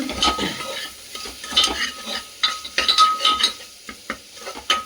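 Chopped tomato stirred into chicken keema frying in a pan: a soft sizzle under repeated irregular scraping and clinking of a spoon against the pan, close by, with no voices.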